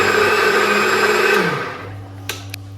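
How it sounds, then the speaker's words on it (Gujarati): A kitchen mixer grinder whirs loudly and steadily as it grinds dhokla batter with semolina, then winds down and stops, followed by two small clicks. "બસ ચાલો પીસી નાખીએ."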